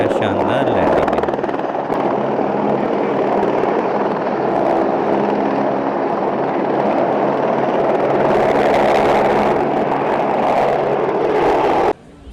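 A helicopter lands at the Kedarnath helipad in the mountains, its loud rotor thump and turbine whine steady and close for about twelve seconds before cutting off abruptly at the end.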